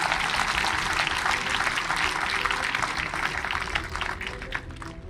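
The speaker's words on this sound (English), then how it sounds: "So I think that really deserves a round of applause." Sustained audience applause fills the room as a dense, even wash of many hands clapping, fairly loud and steady before thinning slightly at the end.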